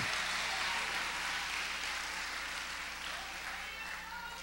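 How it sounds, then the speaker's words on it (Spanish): A church congregation applauds steadily, a dense wash of clapping that slowly fades slightly toward the end. "Denle un aplauso al Señor Jesucristo."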